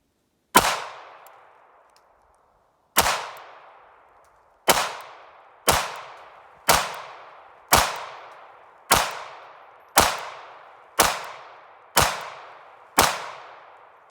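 Ruger LCP MAX .380 pistol firing Fiocchi ammunition from a 12-round magazine: eleven sharp, loud shots, the first two spaced apart, then a quicker, fairly even rhythm of single reports, each with a short ringing decay.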